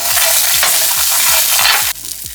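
Tamarind, peanuts, green chilies and garlic roast together in a pot, a loud close sizzle with rhythmic scraping stirs about every quarter second that drop away near the end.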